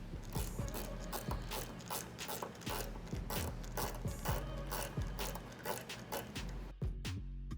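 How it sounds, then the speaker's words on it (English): A ratchet drives screws back into the license plate light housing of a 1994-2004 Mustang, giving steady, close clicking that runs on without a break, with no talk over it. "And then reinstall the screws."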